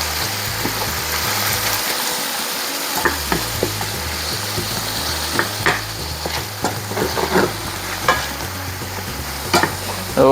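Garlic and onion sauté in a pan for chicken asado, a steady close sizzle broken by repeated scraping and clacking as a utensil stirs and mixes the pan.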